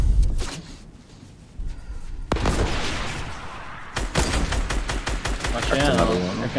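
Gunfire in the Fortnite video game, rapid bursts of shots and sharp impacts crackling loudly over an intense firefight, with a player's voice breaking in.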